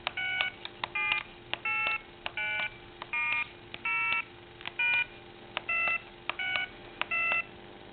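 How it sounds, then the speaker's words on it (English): Touch-tone dialing beeps from an AT&T 5.8 MHz cordless telephone handset, about a dozen short evenly spaced tones in a steady rhythm, clear and close over a faint background hum. "when you go to dial the number"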